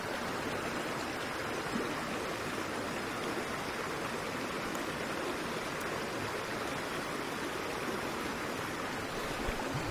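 Steady rushing of flowing stream water, continuous and even throughout, fairly close with no voices.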